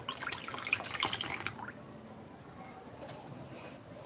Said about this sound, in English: So I'll just pour in it. This is water, room temperature water.